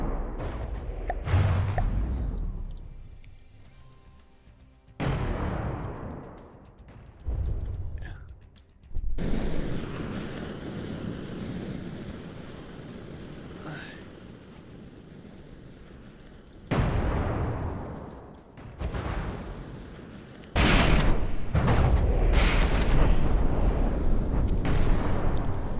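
Cram cannon blasts in the vehicle-building game Jet Jumble, a series of loud, abrupt booms spaced irregularly, each dying away into a rumbling tail, followed by a longer stretch of sustained heavy bursts.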